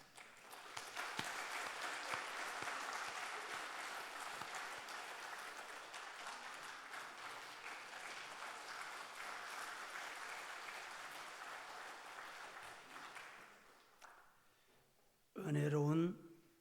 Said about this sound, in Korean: 박수 끝났습니까?